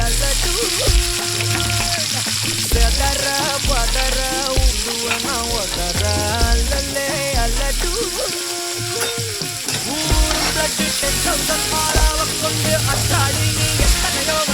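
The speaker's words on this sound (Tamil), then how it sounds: "பெருஞ்சீரகம் பொரிஞ்ச உடனே நம்ம வெங்காயம் போடுறோம்." Onions fry in hot oil with fennel seeds, a steady sizzle and stirring scrapes, under background music with a sustained melodic line.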